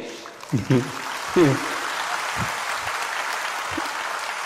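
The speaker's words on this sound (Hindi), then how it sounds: "ऐसे ताली बजाते हैं" Listeners at a religious discourse clap together in a steady, even patter, with a voice speaking briefly over the start before the clapping carries on alone.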